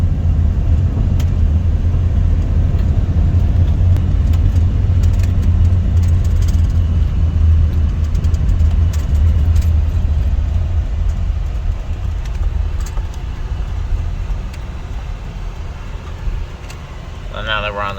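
A 1998 Dodge Grand Caravan SE drives along, its low road and engine rumble steady and close from inside the cabin, easing off slightly toward the end.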